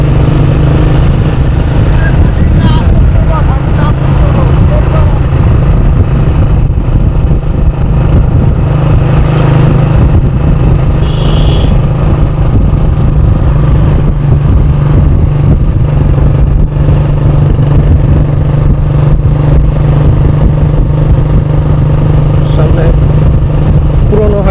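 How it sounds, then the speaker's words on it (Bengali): Several motorcycles move slowly, their engines a loud, close, continuous rumble that barely changes in pitch throughout, with wind noise over it. "মোটরসাইকেলগুলো ধীর গতিতে চলছে।"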